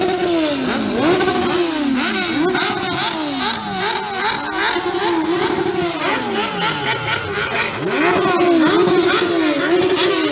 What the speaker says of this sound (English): people confirming that the rev limiter works on their motorcycle